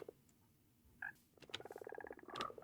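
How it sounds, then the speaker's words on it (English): Frogs croaking in the Tinker World video game, a faint scattered series of short chirpy calls that thickens into a quick rattling chorus near the end. "you got the frogs up and going"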